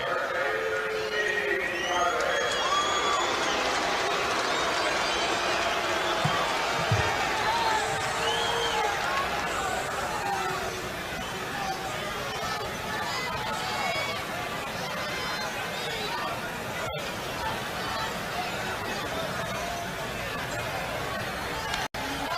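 A large baseball crowd at a 1980 Dodgers game against the Giants in San Francisco hollers a drawn-out chant of "Blue" that resembles booing, a steady distant roar of many voices filling the stadium.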